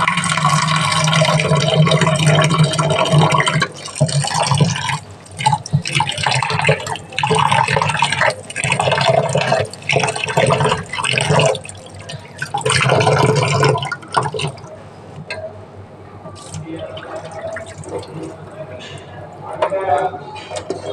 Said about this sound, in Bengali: এবারে ডালটাকে ভালো করে আমি ধুয়ে নেব